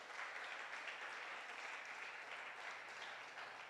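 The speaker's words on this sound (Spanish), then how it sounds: "Dele un aplauso al Señor fuerte en esta mañana." A church congregation applauds, a dense, steady wash of clapping that fills the whole stretch at moderate distance without any voices over it.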